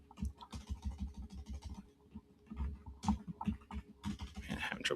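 Someone types on a computer keyboard while entering data into an Excel spreadsheet, producing quiet bursts of rapid keystroke clicks with short pauses between runs.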